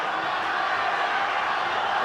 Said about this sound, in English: The crowd is beside itself.